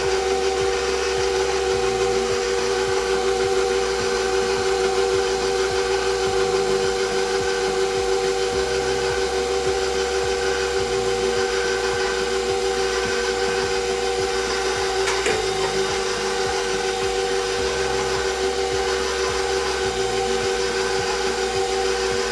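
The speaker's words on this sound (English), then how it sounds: "I'm going to turn that up to 2 and let it blend a little more." Stand mixer steadily whirring as it blends milk into pudding cupcake batter, a continuous droning motor hum with a rhythmic churning pulse, close and loud with no talking.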